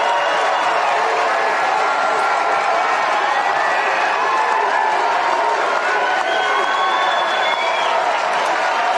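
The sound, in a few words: applause and cheering from audience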